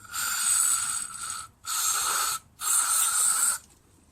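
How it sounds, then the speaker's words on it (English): Three hissing sprays of cleaner from an aerosol can during a 2002 Honda Shadow VLX 600 carburetor rebuild, the first and last long and the middle one shorter, close by and loud with brief pauses between. "And I guess we go ahead and spray that."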